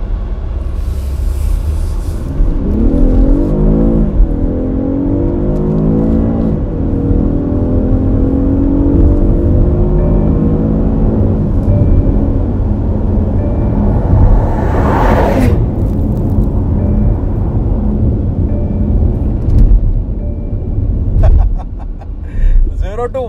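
BMW X6 2020 crossover coupe pulling hard from standstill toward 150, a loud steady engine roar and rising whir with gear-change sweeps, a brief sharp burst midway, then easing off near the end.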